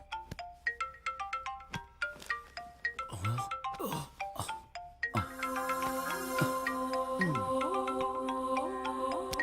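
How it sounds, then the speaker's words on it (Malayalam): A mobile phone ringtone chimes out in a dubbed action film scene, a repeating melodic electronic tune of bright tones that pauses briefly and then comes back louder and fuller with a sustained pattern. "ഫോൺ അടിക്കുന്നു."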